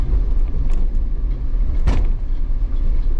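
A 2024 Jeep Wrangler 392 on a rocky mountain trail, its engine a deep, loud, steady rumble close by as it drops into first gear, with a brief knock partway through.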